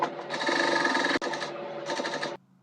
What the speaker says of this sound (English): Now that I'm done sewing down all the horizontal bonings, I'll be closing the open space we left on this other part.